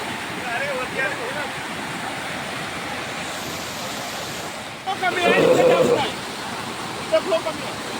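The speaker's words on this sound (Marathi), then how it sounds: "हा एक समोरचा एक धबधबा हा दिसतोय, हा एक धबधबा" A continuous roar of falling water from Ainwahal waterfall near Roha fills the scene, steady and broad, with a voice briefly talking over it partway through.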